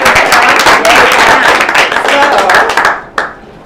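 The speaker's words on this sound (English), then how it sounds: "Give her a round of applause for that." Loud, close applause from an audience, dense clapping that fades near the end, with a single sharp clap and a bit of voice at the close.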